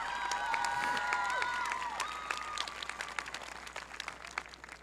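An audience at a school ceremony applauds graduating Global Scholars students, a dense burst of clapping and cheering that thins into scattered claps, with some tonal sounds ringing over the start.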